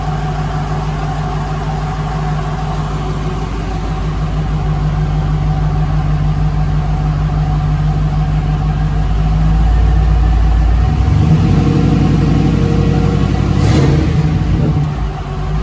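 A Jeep's 5.3 LS V8 with Edelbrock Pro Flo 4 EFI starts and idles with a steady deep rumble, then roars louder as it revs sharply near the end, close by.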